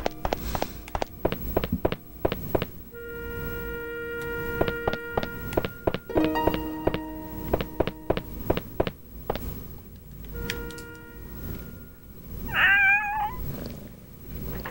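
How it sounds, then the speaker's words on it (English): A cat in the video game Shadow of Destiny gives a clear, fairly close meow near the end. Before it come light footsteps and short game tones, and there is no talk. "Okay, let's go get this kitty cat."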